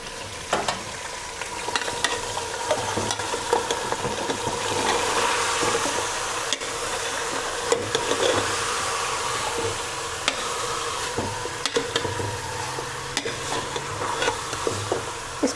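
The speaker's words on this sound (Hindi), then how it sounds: "इसको 1 मिनट तक ऐसे फ्राई कर लेते हैं" Beef achar gosht frying in a pan, a steady loud sizzle with frequent clattering stirs and scrapes of a spatula, close throughout.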